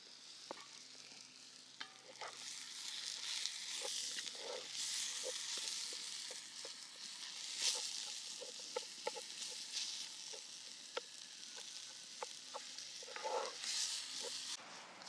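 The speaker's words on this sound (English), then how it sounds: "So let me go give my ground beef an additional stir." Ground beef browning in a pan for Texas chili gives off a soft, continuous sizzle, broken by repeated clicks and scrapes from a stirring utensil, with no voices.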